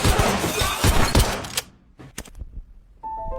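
A rapid, loud burst of gunfire in a movie scene as a man is shot with a hail of bullets, dense clattering shots that cut off abruptly, followed by a few scattered impacts and a faint tone.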